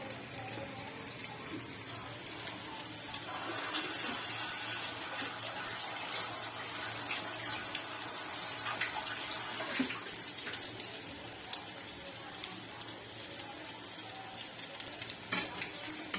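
Onion and gram-flour bhajis frying in hot oil while being stirred, a continuous bubbling sizzle with occasional scrapes and clinks of the utensil, steady and fairly quiet throughout.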